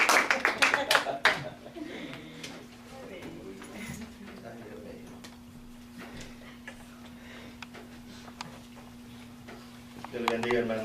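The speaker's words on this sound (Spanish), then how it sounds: "recibámoslo con un aplauso" A church congregation claps at an evening service, a brief burst of sharp claps at the start fading into scattered claps over a steady hum, with a second short round of clapping near the end.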